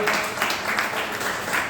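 An audience at a live event in Himatnagar, Gujarat breaking into steady applause, a dense wash of clapping hands that holds loud and even for a couple of seconds, with no talk over it.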